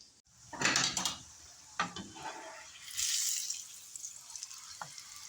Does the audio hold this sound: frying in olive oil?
yes